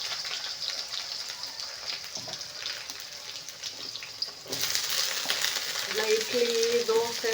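Dried red chillies, broken by hand, fry in a pan with a steady sizzle that gets louder halfway through, over a busy kitchen background.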